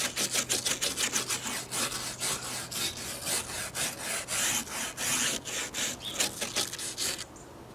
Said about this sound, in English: use a wire brush to scrape the algae off the fence